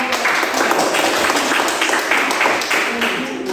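A classroom of students claps for a group, a steady patter of hands lasting a few seconds with some voices mixed in.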